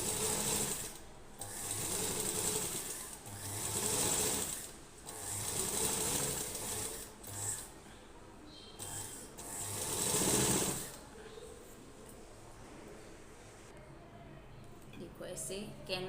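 A sewing machine stitches the lining of a blouse neck backed with paper canvas. The motor whirs in steady bursts of one to two seconds with short pauses between them, and a voice speaks at times.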